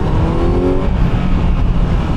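A 2025 Kawasaki Z900 SE motorcycle engine revs hard and loud up close, its roar climbing briefly before settling into a rough, steady drone.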